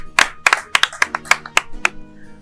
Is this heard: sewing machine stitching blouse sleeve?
no